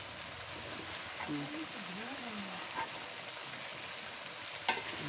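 Potatoes and other vegetables frying in a pan give a steady broad sizzle, with faint stirring scrapes and a brief sharp clack near the end, and a faint voice in the background.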